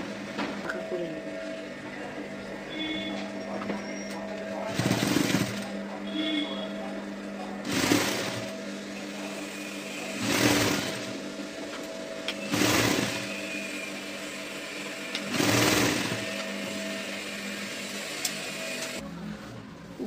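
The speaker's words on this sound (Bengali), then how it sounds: "এবার আমি এটাকে ফোল্ড করে সেলাইটা দিয়ে নেব।" A sewing machine stitches folded blouse piping in short, rhythmic bursts, about five or six runs spaced a few seconds apart, fairly quiet against a low room hum with a voice speaking between runs.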